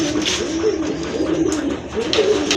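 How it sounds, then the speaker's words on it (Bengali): Pigeons, including a pair of deep red birds, coo steadily in low, throaty murmurs close by, overlapping calls continuing throughout with a few faint clicks and rustles. "দেখেন এক জোড়া কবুতর"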